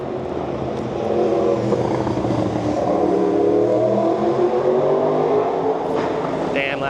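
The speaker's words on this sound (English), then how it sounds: "Damn, loud-ass motorcycles, man." Loud motorcycles pass along a street in DUMBO, Brooklyn, New York, with a sustained roaring engine drone that swells and rises in pitch as they go by close at hand.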